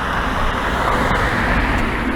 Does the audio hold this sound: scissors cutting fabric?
no